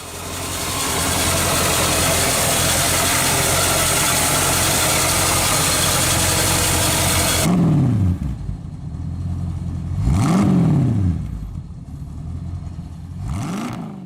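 A deep, steady 4.9-liter V8 engine idles loudly, then revs up and settles back several times in smooth, rising-and-falling swells.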